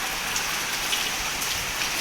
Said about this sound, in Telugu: ఫుల్ పడుతుంది వర్షం.